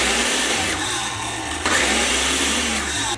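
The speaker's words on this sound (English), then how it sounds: "I'm gonna pulse this until it gets nice and minced." A food processor pulses chopped onion, its motor whirring loud and close in short bursts with a brief dip between them.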